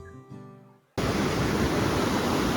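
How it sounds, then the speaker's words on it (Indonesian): Curug Tempuk waterfall near Dieng roars as a steady, full broadband rush of falling water, heard up close and loud right after a short musical passage ends abruptly. "Nah, ini sudah ada di area dekat air terjunnya."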